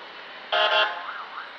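At a Syttende Mai parade, a fire department vehicle gives a single short, loud horn blast over quiet background noise, followed by a fainter wavering tone.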